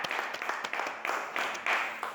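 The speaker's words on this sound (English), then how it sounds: "Please, let's clap for them." An audience at a Cameroon community meeting in Cyprus gives a short burst of applause, with claps arriving in loose, uneven waves.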